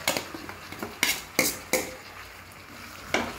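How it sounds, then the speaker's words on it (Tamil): Chicken being stirred with masala in a cooking pan, a series of sharp metal spoon scrapes and knocks against the pan over a quiet background, irregularly spaced and fairly close. "நல்லா கலந்து விட்டுக்கோங்க மசாலாவெல்லாம்."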